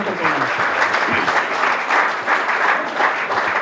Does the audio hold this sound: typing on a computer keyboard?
no